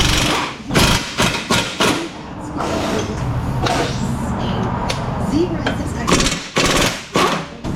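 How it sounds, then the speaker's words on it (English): Ingersoll Rand pneumatic air hammer working on a Kia wheel after curb damage, firing in rapid loud bursts of hammering separated by short pauses, with a shop ambience between bursts. "we'll rely on the Ingersoll Rand pneumatically powered piston."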